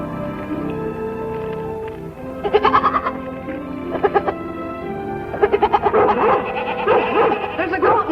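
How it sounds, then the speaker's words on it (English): A goat bleats loudly several times in wavering, quavering calls, close by, over a steady low background rumble. "There's a goat in trouble."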